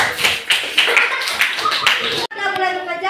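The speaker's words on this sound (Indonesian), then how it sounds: "Tepuk tangan." Hands clapping in a classroom as a small group is applauded, a quick burst of claps lasting a couple of seconds before cutting off, with voices heard around it.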